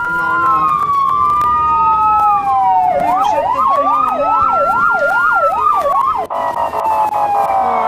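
Ambulance siren in Bucharest traffic, loud and close, shifting from a long rising-falling wail to a fast yelping warble, then back to a wail, over road noise with a voice talking.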